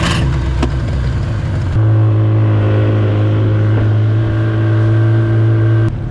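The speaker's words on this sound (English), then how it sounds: "All right, then we start the motor." A dinghy outboard motor starts with a burst of noise and then settles into a steady, loud, continuous drone running close by on water near shore, with no talk over it.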